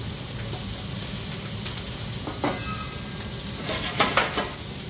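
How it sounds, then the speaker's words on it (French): Caramel bubbling and sizzling gently in a pan as the base for a cherry and red beer gastrique for duck breast, a steady soft frying hiss with a few light clinks and stirring scrapes, no voices. "Pendant ce temps-là, donc, mon caramel il va se faire tranquillement."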